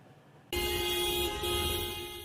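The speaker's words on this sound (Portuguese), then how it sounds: "O barulho das buzinas tomou conta das ruas de Maputo" Car horns blare together in stalled traffic on the streets of Maputo, a sudden loud chorus of overlapping sustained honks that starts abruptly and holds steady.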